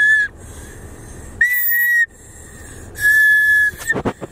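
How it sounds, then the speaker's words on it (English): A small child blows a toy whistle in a few bursts: a faint opening toot, then two longer shrill blasts separated by quiet, ending with short choppy puffs. "if you hear a little whistle, he got a little added bonus. He learned how to blow in a little flute."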